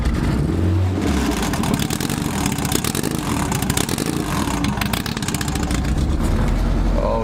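A Honda Civic EK engine, running with no coolant, revs hard and loud close by, a rough, buzzing drone that surges and holds through the whole stretch with no talk.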